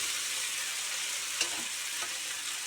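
Crushed tomatoes frying in a pan, with a steady soft sizzle and a couple of faint utensil taps along the way.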